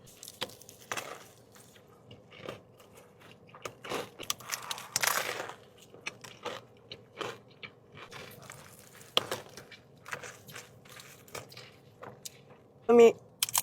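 Crunchy bites and chewing of food loaded with Doritos and hot Cheetos, scattered crisp crunches close to the mic, with someone talking between them.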